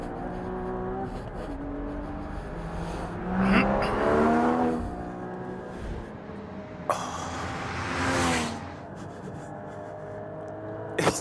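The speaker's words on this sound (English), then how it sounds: "let's try a lap in the GT4" A Porsche Cayman GT4 engine pulls hard around a race track lap, rising and falling in pitch through repeated upshifts and revs, loud and close with no talking.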